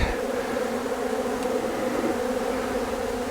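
Steady, dense buzzing of many honey bees close by, a continuous droning hum with no pauses or voices.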